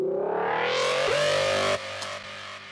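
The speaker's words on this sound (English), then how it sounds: "the next sound is this like dirty, hard style lead kind of sound" Dirty, distorted hard style lead synth from a synth tutorial, a buzzy sustained note that sweeps upward in pitch, then drops into a lower, quieter tail, heard alone.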